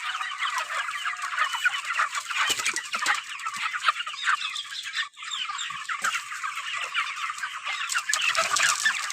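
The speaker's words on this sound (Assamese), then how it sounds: "দেখিব পাইছে 31 দিন বয়সৰ পোৱালি।" A flock of 31-day-old broiler chicks feeding and drinking, filling the space with a dense, continuous chorus of overlapping chirps and clucks, close and steady, with occasional soft knocks and no voices.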